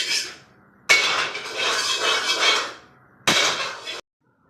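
A metal frying pan is set down on a home gas stove before cooking vegetables, giving two loud, clattering metallic bursts separated by a pause, close by with no talking.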